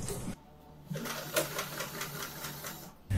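A sewing machine stitches fabric during a beginner's sewing lesson, a steady run of rapid mechanical clatter lasting about three seconds, close and moderately loud, with no talk over it.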